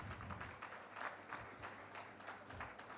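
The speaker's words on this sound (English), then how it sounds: "Can I have a round of applause" A faint round of applause rises from a conference audience at a defence conclave, scattered hands clapping unevenly at a distance, soft and brief.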